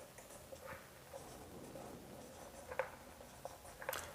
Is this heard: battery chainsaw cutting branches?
no